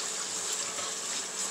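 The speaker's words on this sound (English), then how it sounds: "I'm going to rinse this rice until the water that's coming out of it is clear" Tap water gushes steadily into a pot while rice is rinsed, a brief, constant hiss of running water.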